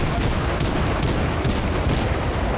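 The Kolberg cruiser's guns in the World of Warships video game boom in a dense, loud barrage, overlapping rapid blasts rolling one after another without pause, backed by constant rumbling noise.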